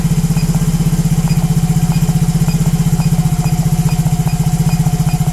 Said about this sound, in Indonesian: Perhatikan suara mesinnya mulai berebet, karena sama aja saya mengurangi bahan bakar